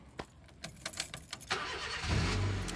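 A Honda Civic engine cranks with a few rapid clicks and turns, then catches and settles into a steady, close idle rumble without any talk.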